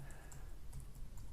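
Faint, irregular keystrokes on a computer keyboard, a few soft clicks spread over a moment of quiet room tone.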